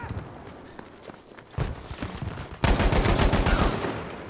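Bursts of M1A1 Carbine gunfire in Battlefield 5, a close, sharp run of rapid shots with the racket growing denser and louder toward the end.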